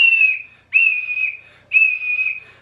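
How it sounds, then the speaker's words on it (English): Three long, shrill blasts from a hiking whistle, sounded as a distress signal, each steady tone cut off by a brief pause; loud, close and clear with no talking. "the international distress signal for a whistle is 3 long blows"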